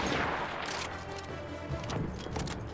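Rapid gunfire in Battlefield 1, rounds striking a rock, comes as a burst of sharp cracks and impacts over a busy battlefield din, moderately loud and fairly close.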